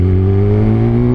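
A Kawasaki ZX-10R sport bike engine roars loud and close with a steady, rumbling note, its pitch sliding gently as it downshifts through a smooth quick shifter.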